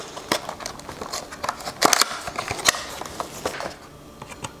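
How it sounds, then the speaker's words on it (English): A blade cutting a small flap on a cardboard box, heard as a string of close, crisp scraping and crackling clicks with uneven bursts and brief pauses, no talk. "Just have to cut this little flap here."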